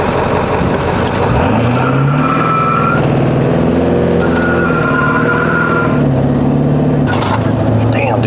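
A turbocharged 7.3L Powerstroke truck accelerates hard, engine roaring loud and close as it climbs through rising pitch with a shift or two, tire noise mixed in and a voice shouting over it.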